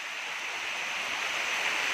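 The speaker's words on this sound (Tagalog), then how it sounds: "Yan na, yun na yung dagat oh." Sea waves wash onto the shore at a beach in Mauban, Quezon Province, heard as a steady, even rush of surf with no talking over it.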